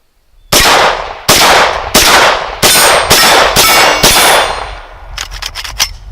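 A homemade gun fires at steel targets, with six loud, close shots spaced about a second apart, each followed by a ringing clang of steel. A quicker cluster of lighter metallic pings and clinks follows at the end.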